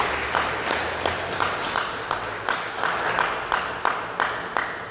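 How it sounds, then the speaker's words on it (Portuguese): Church congregation clapping for Jesus at a worship service, steady rhythmic claps at a brisk even beat, moderately loud and fairly close, with a low hum of the room beneath. "dê uma salva de palmas para Jesus"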